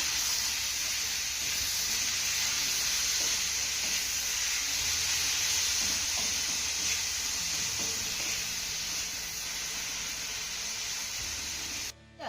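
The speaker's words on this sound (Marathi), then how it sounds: "नंतर हा दोडका आपल्याला एक ते दोन मिनटं चांगला परतून घ्यायचा आहे" Grated ridge gourd is sautéed in a hot pan, giving a steady, even sizzle and hiss close by with faint stirring underneath. It goes on without a break and cuts off just at the end.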